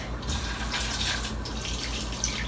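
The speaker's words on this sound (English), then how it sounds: "Turn the hot water on." Hot water runs steadily from a tap into a sink, a soft continuous splashing hiss with a faint low hum beneath, moderately close and without talk.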